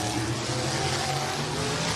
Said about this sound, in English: And they're going for their warm-up laps.